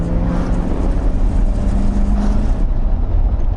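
A 1978 Lincoln Continental Mark V with a 7.2-liter 460 V8 pulls at full throttle, a steady loud low engine roar that drops off abruptly near the end, with no talk.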